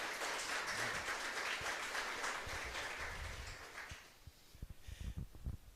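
Audience in a church applauding after a preacher's talk, a dense wash of clapping for about four seconds that thins into a few scattered claps before fading.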